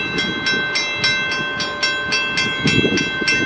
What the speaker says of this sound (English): with the horn blowing and the crossing gate sounding, that is train 78 incoming.